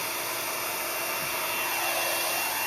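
A blow dryer runs steadily throughout, a loud constant whooshing roar with no pauses.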